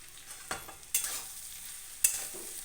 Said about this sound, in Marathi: आता ह्याच्यावर टाकायचे आपल्याला हे साबुदाणा बघा मस्तपैकी हलवून बिलवून हे करूया